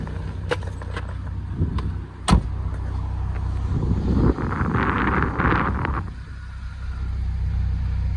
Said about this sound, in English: You could blindfold me and have this drive past, I would know it was a Mini.